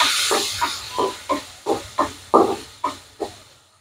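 Mushrooms fry in a pan with chopped garlic and salt, a hissing sizzle broken into about ten regular bursts as the food is stirred and tossed, close and moderately loud.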